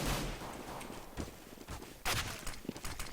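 Decoy grenade popping out fake gunfire during a Counter-Strike knife round, giving a burst of sharp, gun-like cracks against muffled in-game footsteps and background noise, with a louder cluster of shots late on.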